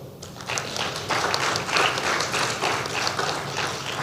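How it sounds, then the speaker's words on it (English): Audience applause rises quickly and holds as dense, steady clapping from a crowd at the Saint Lucia-Taiwan Partnership Trade Show, fairly close and uninterrupted by talk. "I think they deserve a big round of applause."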